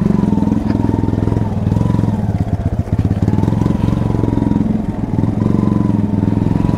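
A motorcycle ridden on a muddy road after rain, its engine droning steadily and loudly up close with a slight dip in pitch midway and no speech.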